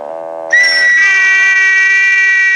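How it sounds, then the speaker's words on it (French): A person whistling loudly to call servants, first a lower sustained note, then a sharp jump to a piercing high steady whistle held for about two seconds, close and clear with no talk. "Pourquoi sifflez-vous?"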